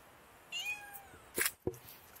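A kitten in Greece gives a drawn-out, rising-and-falling meow, followed by a couple of short, sharp sounds; quiet and fairly close, with no talking.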